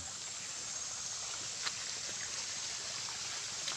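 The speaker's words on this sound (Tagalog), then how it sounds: "Yan, ginawa nilang daanan ng patubig sa mga irrigation para sa mga palayan." Water flows through an irrigation channel feeding rice paddies at the foot of the Sierra Madre mountains, a steady rushing trickle with a constant broad wash, moderately close and uninterrupted by speech.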